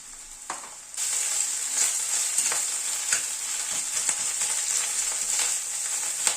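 Onion and ginger paste fry in a pan with oil, a bright hissing sizzle that jumps up after a brief quiet start and carries on steadily, broken by the scrape and clatter of stirring.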